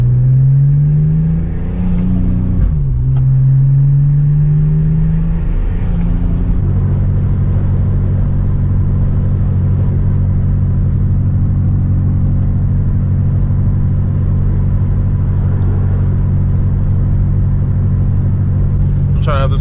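A Nissan G35 with a custom mid-mount turbo and straight-through glass pack mufflers, driven on the road. Its engine revs and sweeps up and down early on, then settles into a steady, loud exhaust drone.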